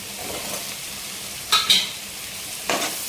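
Potato and carrot pieces frying in a pan are stirred with a utensil, giving a steady sizzle broken by a few sharp scraping clinks against the pan, with no talking.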